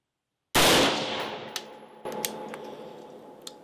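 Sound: 5.56 gun firing with Strike Industries Oppressor compensator

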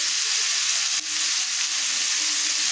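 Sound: potatoes and tomatoes frying and being stirred in a pan

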